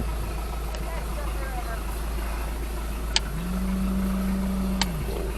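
A Mercury Alpha One Gen 1 sterndrive boat engine idles in gear around 650 rpm, a steady low rumble that holds throughout, with a faint clunk and a brief low tone partway through.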